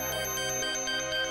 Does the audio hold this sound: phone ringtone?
yes